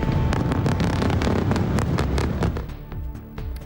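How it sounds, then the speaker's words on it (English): A rapid series of huge explosions in Beirut, loud blasts and crackling bangs rumbling continuously, then thinning out toward the end with wind-like noise. "A series of huge explosions rocks Beirut"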